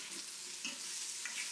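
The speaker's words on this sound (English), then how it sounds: "Let me go check on my onions that are frying." Onions fry in a pan with a soft, steady sizzle, a faint crackle and an occasional light stir, low and continuous throughout.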